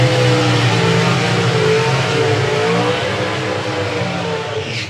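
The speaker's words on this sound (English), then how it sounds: "So he's going to make 2 or 3 burnouts, and maybe a hit." A drag race car at a doorslammers event roars continuously through a tire-heating burnout, a loud sustained engine drone with wavering harmonics that eases slightly toward the end.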